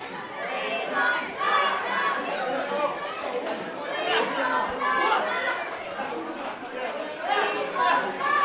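A wrestling audience keeps up a lively wash of chatter and cheering, swelling in waves with individual shouts poking through, while a commentator speaks over the noise.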